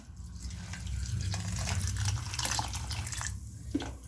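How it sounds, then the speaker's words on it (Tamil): Water pours steadily into a vessel with a soft continuous splashing, fairly close and moderately quiet. "கொஞ்சோண்டு தண்ணி ஊற்றிக்கலாம்."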